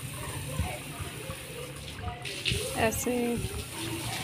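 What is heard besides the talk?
water running while washing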